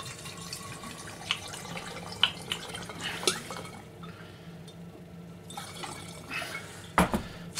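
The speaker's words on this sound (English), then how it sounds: "into said spare bottle we are going to put about 1/4 of our bottle of vodka" Vodka poured from a bottle into a spare glass bottle for making limoncello, a quiet liquid trickle with a few clinks of glass, ending in a sharper knock as the bottle is set down.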